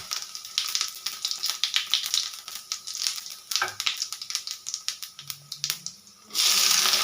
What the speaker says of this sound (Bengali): দুটো তেজপাতা, গোটা গরম মশলা, একটা শুকনো লঙ্কা, একটু গোটা জিরে ফোড়ন দিয়ে দেবো।